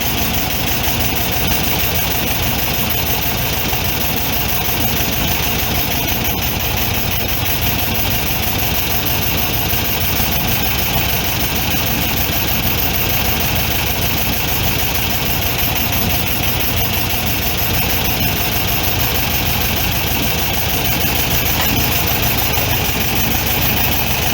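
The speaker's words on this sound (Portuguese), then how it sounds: "Começou a cair a rotação do motor, abre entre um quarto de volta e meia volta" A VW Beetle air-cooled engine fitted with twin Solex 32 PDSI carburetors idles steadily during carburetor adjustment, a loud close continuous drone and rumble with no pauses or voices.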